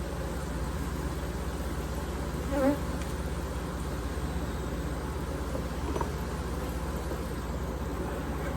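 Honey bees swarm around an open hive during an inspection, and their dense, steady buzzing fills the air at close range without pause. No one speaks.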